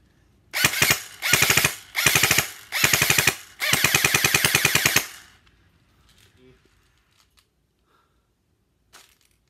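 Five loud bursts of rapid automatic fire from a Classic Army M4 MK16 airsoft rifle, each a fast rattling string of shots, followed by near silence with faint handling clicks.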